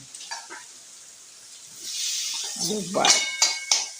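Hot oil crackles and sizzles as spices are dropped in for tempering, rising to a bright hiss with a voice speaking over it.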